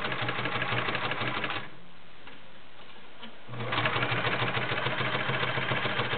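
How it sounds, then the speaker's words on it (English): A White model 999 convertible flat bed and free arm sewing machine stitches through eight layers of stiff upholstery fabric with a size 16 needle. It makes a close, rapid, mechanical whir that stops for about two seconds, then resumes. "Nice neat stitch. 8 layers of very stiff upholstery fabric."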